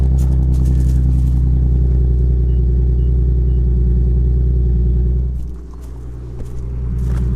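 A modified Nissan 370Z V6 idles steadily with a deep, even exhaust burble just after a cold start, the low rumble dipping briefly near the end before settling again, with no talk over it.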